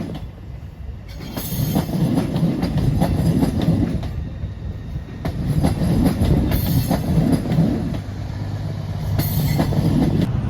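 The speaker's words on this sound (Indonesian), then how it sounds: "kereta api Serayu 283-nya sudah diberangkatkan kembali dari stasiun Bandung ya teman-teman, di belakang kereta api feeder" The Serayu passenger train, pulled by a double locomotive, departs Bandung station with loud rolling wagon noise, rhythmic wheel clatter and intermittent high wheel squeals, close by and without talk.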